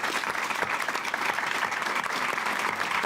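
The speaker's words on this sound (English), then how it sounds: "So please join me in applause." Audience applause for panelists at an executive development event, a thick, steady wash of many hands clapping, close and loud throughout with no talk over it.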